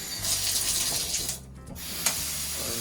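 A tap runs into a tiny hotel room sink that doubles as a shower in South Korea, a close hissing water stream that briefly cuts out and then resumes with a small splash.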